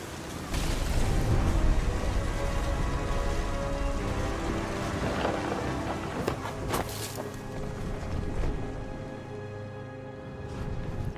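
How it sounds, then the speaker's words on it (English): Rain pours steadily with low rumbling thunder in the video game What Remains of Edith Finch, a continuous dense hiss with a few sharper cracks and deep rolls mixed in, no voices. "The thunder sounded much too close and full of angry power."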